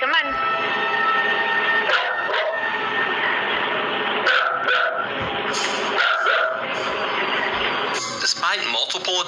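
A dog at a home's kitchen doorway lets out several sharp barks and yips over a continuous bed of background music, with voices at moments.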